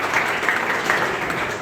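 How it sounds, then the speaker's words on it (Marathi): Crowd at a Chhatrapati Shivaji Maharaj speech gathering clapping together, a continuous, even roar of many hands with a few sharper claps standing out. "मी टाळ्या वाजवायला सांगितल्या"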